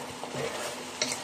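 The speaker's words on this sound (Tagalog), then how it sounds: "Haluin natin." Adobo with carrots and potatoes is stirred in a pan, a quiet, brief sizzle with soft spoon scrapes and one small clink at the end.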